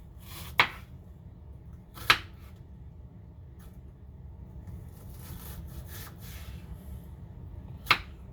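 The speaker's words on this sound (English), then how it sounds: "We're just going to slice up the onion" A knife slices an onion in a home kitchen. Three sharp, isolated cuts land with long quiet gaps between them over a faint low hum.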